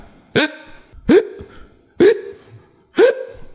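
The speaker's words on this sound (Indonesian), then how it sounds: "Jika Anda pernah mengalami cegukan" Four sharp hiccups in a row, each a short abrupt vocal gulp spaced about a second apart, close and fairly loud with no talking.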